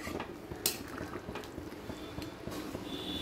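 Chicken curry with water added simmers in a covered pot, a soft steady bubbling with faint lid rattles and a few small clinks, close by and quiet with no talking.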